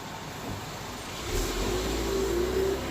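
Road traffic noise swells as cars pass close by, a steady broadband rush with engine hum rising midway and holding to the end.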